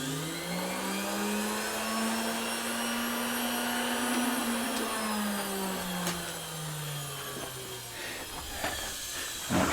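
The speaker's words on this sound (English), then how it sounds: "I like to grind on it anyway." An electric grinder works steadily on brass scrap plumbing fittings, a continuous loud whine whose pitch sags and rises slightly as the load changes, with no talking.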